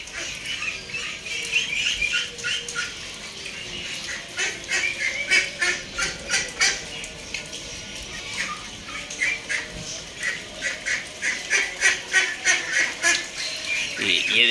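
A flock of ducks quacks continuously in rapid, rhythmic bursts, loud and close, rising and falling throughout.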